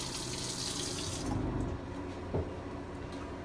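Water runs steadily from the sink tap in a 2013 Jayco Greyhawk motorhome once the water pump is switched back on, a close, continuous splashing stream with a brief clunk partway through.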